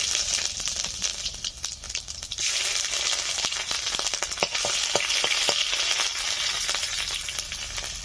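Whole cumin, cardamom and cloves sizzle and crackle in hot oil after dried red chillies have darkened, a steady dense frying hiss with small pops and stirring clicks throughout.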